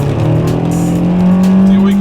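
A 2013 Nissan Sentra in sport mode accelerating hard on a rainy road, its CVT holding a loud, steady high-revving drone near 6,500 RPM with two people inside the cabin.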